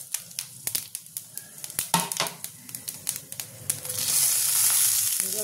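Fenugreek, fennel seeds and curry leaves drop into hot oil with torn dried red chilli for a Bengali katla fish curry tempering: a run of sharp crackles and pops, then a loud, steady sizzle takes over.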